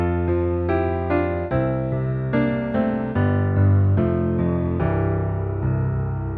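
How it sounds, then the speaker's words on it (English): The short signature interlude of a song plays on piano: descending thirds and bass notes moving downward, close and steady. "The next part is the little signature interlude."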